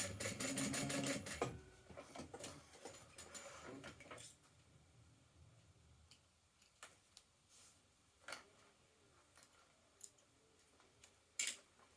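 Sewing machine top stitching a fabric sling lining, a fast continuous mechanical run for the first few seconds, then scattered faint clicks, ticks and handling noises.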